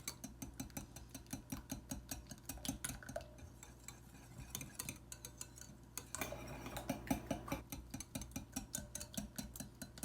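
Spoon scraping and clinking steadily against a bowl while a melted chocolate mixture is stirred, a brisk repetitive tapping rhythm running throughout at close range with no talking.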